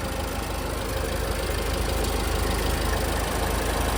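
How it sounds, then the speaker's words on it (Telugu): A 2017 Ford EcoSport Titanium diesel engine idles with a steady, low, even rumble and faint knock, constant throughout with no speech. "ఇంజన్ మాత్రం చాలా సైలెంట్ ఉందండి అసలు స్టార్ట్ అయినట్టు కూడా అర్థం కావట్లేదు"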